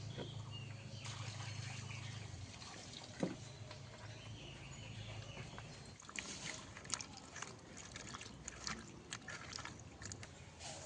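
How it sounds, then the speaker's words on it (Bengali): Fish being rinsed in a bucket of water at home while cooking a pumpkin-leaf curry, with soft, continuous sloshing and small splashes close by, growing more active partway through, with no talking. "মাছটা এখন ধুয়ে নিচ্ছি বালতিতে জল চিপে নিয়েছি"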